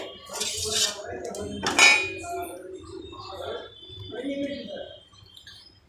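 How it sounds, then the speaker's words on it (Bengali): Metal kadai pans clank and clink on a stove in a home kitchen as two are set down for cooking, giving a few sharp close metallic knocks and rings amid a voice talking. "তেল দিয়ে কড়াইটা গরম করতে, দুইটা কড়াই বসিয়ে দিয়েছি।"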